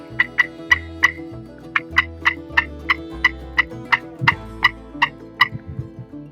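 A turkey box call, tapped with the thumb, gives a quick run of about seventeen sharp, yelping cuts in close, loud bursts, with a short pause partway through, imitating a turkey.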